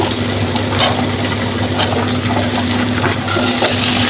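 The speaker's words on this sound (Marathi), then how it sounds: "वाटाणा आपण ह्याचा परतून घेतोय थोडासा चिरलेले गाजर टाकते" Peas and chopped carrots sautéing in a pan, a loud, dense, continuous sizzle and hiss with faint stirring scrapes mixed in.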